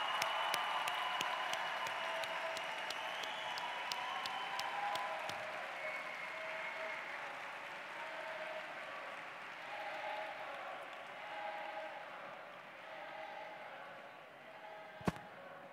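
A crowd at a 2015 university graduation ceremony claps in a long, steady round of applause that thins out gradually, with a few sharp claps early on and a single loud knock near the end.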